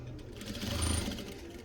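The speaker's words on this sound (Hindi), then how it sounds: "और इसमें सिलाई लगा ली" A sewing machine stitching a folded embroidery patti onto a printed suit: a brief, steady mechanical whir at close range, with no talking.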